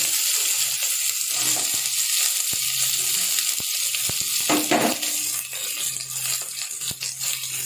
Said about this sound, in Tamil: இப்போ நம்ம பொடியாக நறுக்கி வச்சுட்டு வெங்காயத்தை சேர்த்துக்கலாம்.